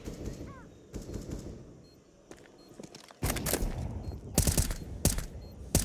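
Gunfire in a competitive shooter match, with scattered single shots early, then denser close bursts and rapid automatic fire in the second half, heard alone without talk.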